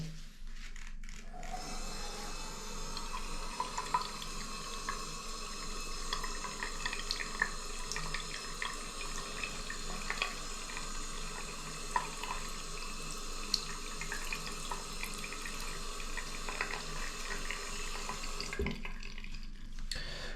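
Water pours steadily from a tap over neoprene fishing gloves, a continuous close splashing and trickle lasting about eighteen seconds before it stops, with no talking.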